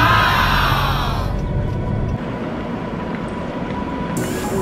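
A train in Korea running on the rails, a loud continuous rumble with a high squeal at first, then a steady rolling roar close by, heard alone without talk.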